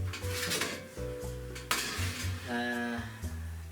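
Bacon sizzling in a pan while a utensil scrapes and clatters against the metal to flip the strips, with a sharp knock partway through, close and fairly steady.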